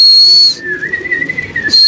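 Sharp high whistle tones at the start and end, with a lower wavering whistle in between; loud and close, no talking.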